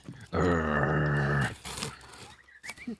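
A growl comes from a shaken wrapped Christmas present: one low, rough sustained growl lasting about a second, close and fairly loud, followed by faint scattered noises.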